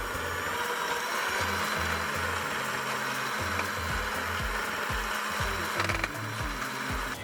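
Fudge frosting being whipped with an electric mixer, a steady whirring motor hum with rhythmic low thumps of the beaters churning the thick, glossy mixture, close and continuous.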